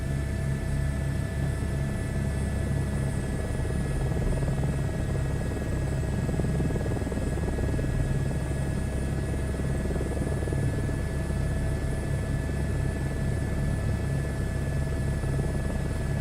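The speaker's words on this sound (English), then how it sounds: "Let the rotor speed stabilize." An H125 helicopter in a flight sim game, its rotor and turbine engine running in a steady, loud, unbroken drone with a constant whine, heard alone throughout.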